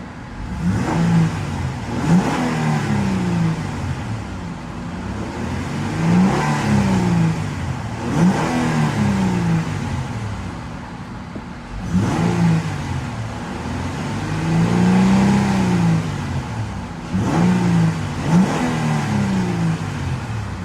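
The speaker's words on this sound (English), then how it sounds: "let's go ahead and see how she sounds" A 2011 Honda Pilot Touring 4WD engine idles, then is revved about five times in rising and falling sweeps, close and loud with no talking.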